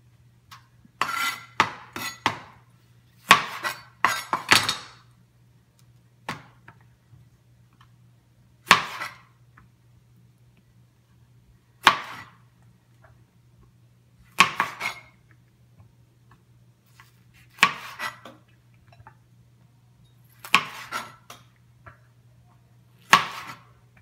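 A knife cuts and deseeds mini peppers on a cutting board, giving sharp, irregular chops and taps in small clusters separated by quiet gaps, close and clear, with no talking.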